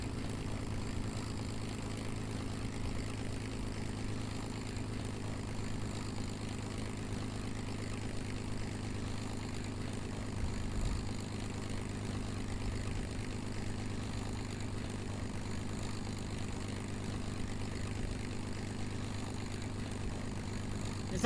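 A propeller aircraft in Kerbal Space Program taxis at low power, a faint, steady droning hum with a low engine tone that stays even throughout, with no talking.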